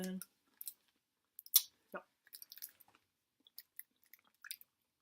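Close, quiet chewing of American candy, soft wet clicks and squishy bites coming in scattered bursts between pauses of near silence.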